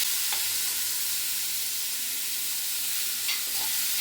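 Chopped eggplant sizzles steadily in a hot oiled pan for bharit, with a couple of faint scraping stirs. The frying is close and continuous, and no one speaks.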